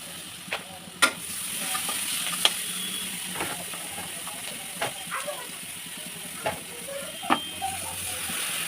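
Garlic paste sizzles in a pan with fried onions and salt, a soft steady hiss with occasional sharp clicks and scrapes from stirring, fairly close and quiet, and there is no talk.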